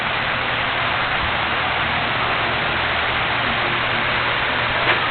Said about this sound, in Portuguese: Lá, papai, tá chovendo?